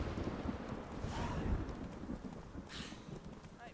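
Roach, the horse in The Witcher 3, gallops with a steady clip-clop of hooves over a continuous low rumble of wind and ambient game noise, with a few faint airy swells on top.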